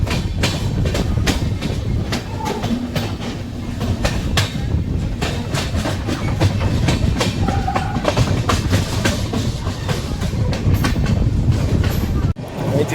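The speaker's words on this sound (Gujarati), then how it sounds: "તમે જોઈ શકો છો આપણી ટ્રેન હવે ડબલ લાઇનથી પાછી સિંગલ લાઇન ઉપર ચડી." A train runs along the Rajkot–Jamnagar–Kanalus railway as it moves from double line onto single track, with a steady rumble and a rhythmic clickety-clack of wheels over rail joints heard from on board, continuous and fairly loud.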